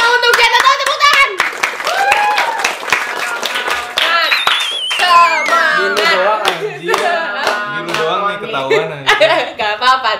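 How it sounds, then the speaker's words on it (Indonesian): Hand clapping from a small group in an Indonesian talk show setting, sharp claps running through mixed with laughter and overlapping chatter, with singing-like voices joining toward the end. "Tepuk tangan."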